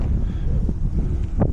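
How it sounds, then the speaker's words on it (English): Wind gusting outdoors on a trail, loud low-pitched buffeting against the microphone that rumbles continuously through the short stretch, with faint rustling and no speech. "you guys might hear a lot of wind as I'm going through here"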